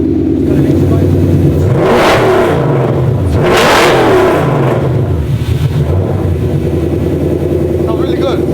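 A 1300 hp twin-turbo 427 racing truck engine idles with a deep, throaty rumble, then revs hard twice in quick succession before settling back to a steady idle.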